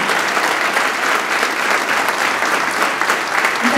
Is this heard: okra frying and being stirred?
no